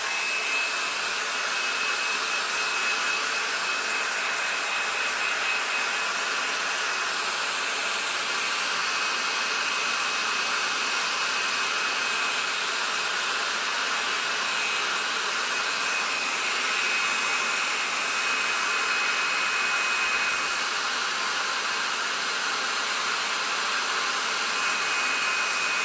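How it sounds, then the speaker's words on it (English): A hair dryer drying paint on a dishtowel roars continuously at a steady, loud pitch for the whole stretch, with a constant airy whoosh and no pauses. "I'm going to use a hair dryer on it"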